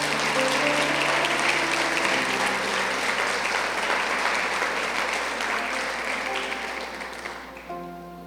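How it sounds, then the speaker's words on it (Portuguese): Church congregation applauding for Jesus, a dense steady wash of clapping that runs the full length and fades slightly near the end, with faint music tones underneath. "Você pode aplaudir Jesus?"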